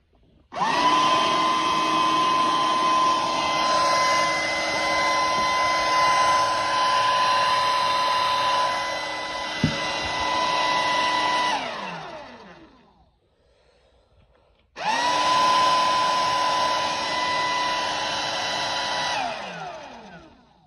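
A Dirt Devil Versa cordless stick vacuum with its brush bar on whirs at a high, steady pitch, winds down into near silence, then starts up again and runs before spinning down.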